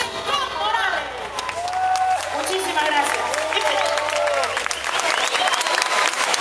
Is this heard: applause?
yes